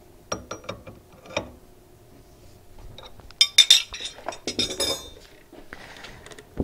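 Metal clinks and small mechanical clicks as a 5.6mm CNC router bit is swapped for a 6mm cutter, a series of close, irregular taps and rattles with brief bright jingles, no talking.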